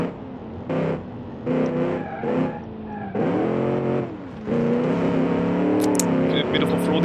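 A car is driven off-road in the BeamNG driving game for an Australian muscle car contest: the engine revs and drops in repeated bursts, climbing to a sustained high roar, with someone talking over it.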